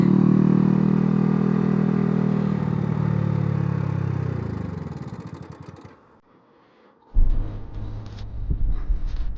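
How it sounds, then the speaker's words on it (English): A Yamaha motorcycle's engine runs loud and steady while riding, with a faint ticking fault in the mix, then fades almost to silence before revving back up close by. "God, I hate this engine ticking noise."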